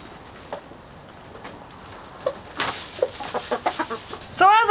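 Several chickens cluck in short, scattered bursts close by, growing busier toward the end over a quiet background.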